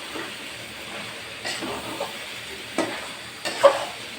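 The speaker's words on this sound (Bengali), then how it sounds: "নেড়ে দিচ্ছি।" Beef liver bhuna frying in oil in a pan and stirred with a utensil, a continuous close sizzle with several distinct scraping stirs that get louder toward the end.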